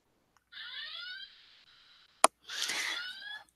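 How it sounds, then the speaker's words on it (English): An alarm going off in two loud bursts of repeated warbling electronic beeps, separated by a short pause and a sharp click, with no talking. "This is an alarm I set"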